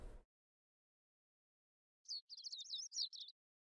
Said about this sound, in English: The sound of birds chirping slowly raises me from my dream into consciousness.